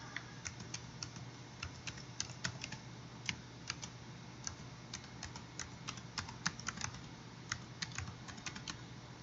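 Steady, fairly quiet typing on a computer keyboard while entering a variable name in SPSS statistical software, with irregular clusters of crisp key clicks running throughout, no speech.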